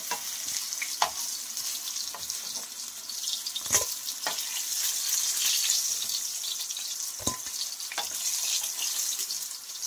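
Fish fry in hot oil in a home kitchen with a steady, close sizzle. Occasional clinks and scrapes of a utensil stirring in the pan come through.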